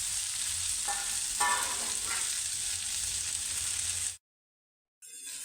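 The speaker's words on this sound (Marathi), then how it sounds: "भेंडी टाकली, भेंडी छान परतून घ्यायची आहे." Tender young okra stir-fried in a pan, a steady close sizzle with a few scraping stir strokes before the sound cuts to silence near the end.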